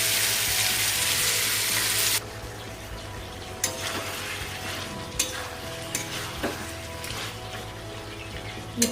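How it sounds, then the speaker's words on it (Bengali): Pointed gourd fries in a pan with a loud, close sizzle that drops suddenly to a quieter bubbling fry, with scattered clinks and scrapes of stirring. "আলুটা ভাজা হয়ে গেছে, এবার পটলটা ভেজে নেব।"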